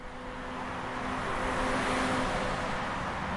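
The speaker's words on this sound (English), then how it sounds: "Now we're going to listen to a little bit of highway traffic." Highway traffic plays as a sound effect, a continuous broadband roar of passing vehicles that swells slightly and holds steady, with no talk over it.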